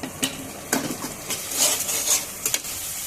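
Tomato fried with spices in oil for a paneer fritter curry is stirred in a pan, a soft background sizzle broken by several scraping spoon strokes and light metallic knocks against the pan.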